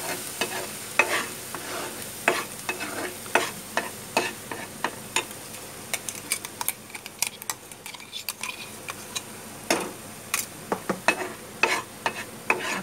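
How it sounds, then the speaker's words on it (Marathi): Spices frying in hot oil over a low gas flame for chole masala, with steady soft sizzling and repeated scraping clicks of a spoon stirring against the pan, close and without talk. "तेलामध्ये चांगला फ्राय करून घ्यायचा."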